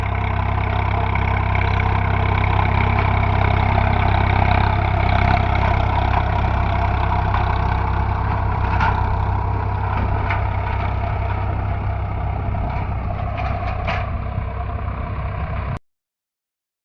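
A Swaraj 855 FE tractor engine runs steadily and loudly close by, holding a constant deep rumble for about sixteen seconds before cutting off abruptly.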